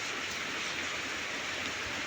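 Rain falls steadily behind a house in a faint, even hiss with no breaks and no voices.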